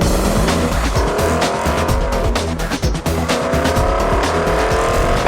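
A Porsche Cayenne GTS with a naturally aspirated 405-horsepower V8 drives hard, engine roaring loud and close while tires squeal and skid continuously throughout.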